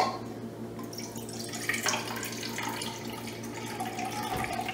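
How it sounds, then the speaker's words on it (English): Water runs and trickles into a cup while half a cup is measured out, a soft, continuous splashing pour with small drips over a low steady hum, no talking. "the second step is you're going to get half a cup of water."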